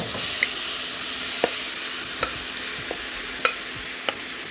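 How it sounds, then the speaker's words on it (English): Shrimp fry in hot oil in a pot for stuffed bell peppers, a soft, even sizzle punctuated by about six brief, spaced clinks and taps of a utensil against the pot, with no one talking. "My oil is hot, so I'm going to go in now with the shrimp."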